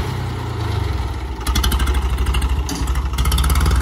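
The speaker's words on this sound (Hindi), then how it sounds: "देखो ट्रैक्टर कैसे मोड़ा जाता है पहाड़ों में" A tractor engine turns in hillside farm fields. It idles low and steady at first, then revs up into a louder, throbbing, pulsing drone that keeps going to the end.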